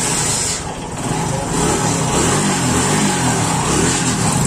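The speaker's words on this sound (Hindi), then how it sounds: "देखिए इसका क्लच स्लिप कर रहा है" A TVS Star City 110 motorcycle with a worn, slipping clutch plate revs loudly and steadily up close, its engine droning and rising without clear gear engagement.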